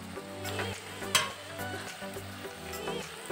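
Mashed boiled potato dropped into a pan of frying masala for rajma gravy and stirred, with a continuous sizzle, scraping spoon strokes and a sharp clack about a third of the way through, no talking.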